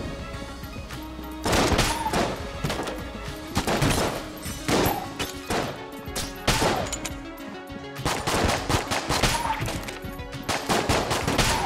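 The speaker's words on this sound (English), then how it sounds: "I like the shotgun actually." A shotgun firing in the video game Enter the Gungeon, a rapid series of loud, sharp blasts in irregular bursts with brief pauses, set over a steady background of game sound.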